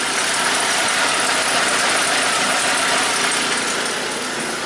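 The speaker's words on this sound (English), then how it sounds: "So the first thing that you heard when the car was starting" A BMW Z3 from a salvage auction, long unused, runs with a loud, steady, close engine roar and a dense rattling idle throughout.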